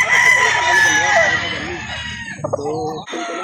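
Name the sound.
rooster crowing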